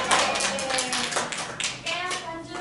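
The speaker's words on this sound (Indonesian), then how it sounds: "ayo beri tepuk tangan dulu" Students in a classroom clap for a presenting group, a quick burst of lively scattered claps with children's voices mixed in, close and fairly loud for a few seconds.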